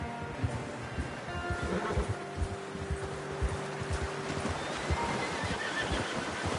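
A horse whinnies with a drawn-out tonal neigh while hooves clip-clop in a steady, close rhythm, set in the video game Red Dead Redemption 2; no talk.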